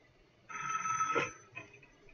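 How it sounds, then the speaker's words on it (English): A telephone bell rings in one sustained burst lasting under a second, followed by a fainter short second ring, clear and alone with no talking. "Oh, phone call."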